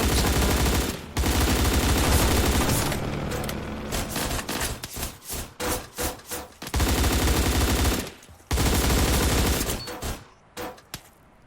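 Rifle fire from a first-person shooter game, loud rapid automatic bursts broken by short pauses, dense and close throughout.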